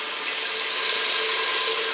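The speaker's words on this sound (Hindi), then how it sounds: "ये देखिए अब मैं पानी डाल रही हूँ।" Water pours into a pan of chickpeas in a steady, bright rushing splash that holds at an even level for about two seconds.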